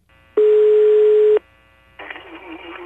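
A telephone dial tone sounds as one steady, clean tone for about a second while a call is being placed, then cuts off and a rougher line tone follows.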